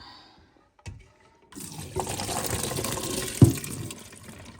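Water from cooked soybeans drains and splashes into a sink, a short burst of pouring and gushing after a few faint knocks, with one sharp clunk near the end.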